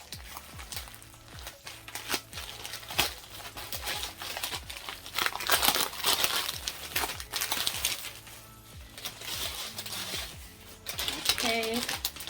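Plastic packaging for Amazon clip-in hair extensions is handled up close, giving continuous crinkling and rustling with a few sharper tears and clicks throughout.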